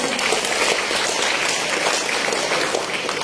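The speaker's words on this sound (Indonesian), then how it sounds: "Tepuk tangan dong." Steady, dense applause from an audience fills the whole stretch at an even level, many hands clapping together without pause and no voices over it.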